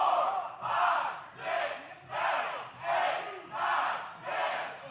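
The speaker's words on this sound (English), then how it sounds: "The OVW faithful counting along with Steven Steele as he pounds away on Drew Hernandez in the corner" OVW wrestling crowd chanting a count in unison with corner punches, six loud rhythmic shouts spaced about a second apart, from a large arena audience.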